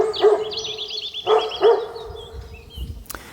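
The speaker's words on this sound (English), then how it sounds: "Some dogs came from up the hill and I recorded them barking." Several dogs bark up a hill in a forest. Three sharp barks come at moderate distance, one early and two close together later, while birds chirp lightly in the background.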